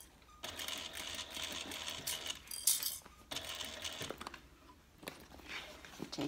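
A sewing machine stitches the curved bottom edge of a handbag in steady mechanical runs broken by short pauses, close and fairly quiet.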